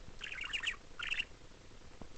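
A pet budgie chirps in two quick bursts of bright, chattering squawks, fairly close, with faint room noise between and no talk.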